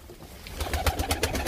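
Low throaty cooing from tumbler pigeons, a few rolling coos close by over a faint background, brief and without talk.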